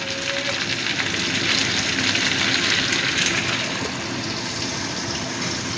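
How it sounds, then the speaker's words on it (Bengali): Vegetable stems (data) frying with prawns in a pan give a continuous, even sizzle and hiss with no voices. "ডাঁটাটা দিয়েও একটু ভেজে নেব"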